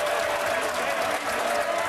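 Members of parliament applaud and roar in the chamber, a dense, loud wash of clapping and crowd noise that holds steady with no single voice standing out.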